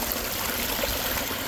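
Continuous rushing splash of water from a pondless waterfall tumbling onto a boulder, a steady close wash with no voices.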